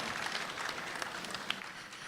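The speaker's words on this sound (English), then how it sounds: "Could we have a huge round of applause for Dabbu Ratnani," Audience applause at the OPPO F3 Plus smartphone launch event, a steady wash of clapping from a crowd held at moderate, slightly distant volume for the full two seconds.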